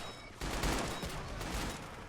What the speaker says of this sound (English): Explosions down on the beach as the twin AA gun is still opening up at some of the U.S. Marines attacking.